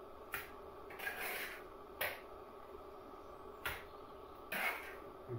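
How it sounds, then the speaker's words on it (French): A trowel edge works lime render upward over a stone wall built with earth mortar, giving short, sharp scraping strokes at irregular intervals, fairly faint and close, with quiet pauses between passes. "je vais égaliser en remontant avec le côté de la truelle"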